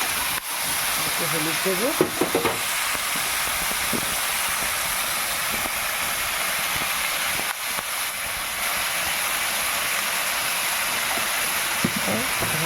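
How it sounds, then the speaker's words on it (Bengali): Okra and pumpkin frying together in a pan, a steady loud sizzle and hiss running throughout, with someone talking over it. "ঢ্যাঁড়স সব একসঙ্গে ভেজে নিচ্ছি, কুমড়ো ঢ্যাঁড়স।"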